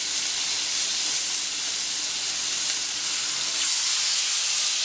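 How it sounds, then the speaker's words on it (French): Duck breasts (magrets) sear on an ungreased plancha, their fat rendering into a loud, steady sizzle with hissing spatter that holds close and constant throughout. "On va maintenant cuire en même temps les magrets."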